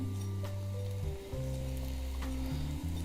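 Makki ki roti cooks on a hot griddle with a soft, steady sizzle, heard close and quiet with no talk.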